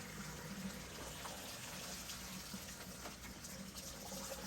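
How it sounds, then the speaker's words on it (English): Water drains steadily from the tank of a Bosch ES4 under-sink electric water heater, a continuous moderate rushing flow with no pauses and no talking. "make the emptying of the tank a lot faster. It doesn't seem to be yellowing, so it's a good sign. While that's draining"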